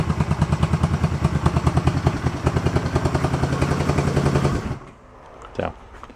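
A 1971 Honda CB350 barn-find motorcycle engine runs close by with a steady, throbbing exhaust pulse for several seconds, then shuts off abruptly, leaving near silence broken by one brief clunk.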